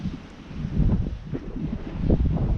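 Gusty wind buffets the microphone on a beach in Guernsey at night, a low rumbling roar swelling and easing over a few seconds with no voices.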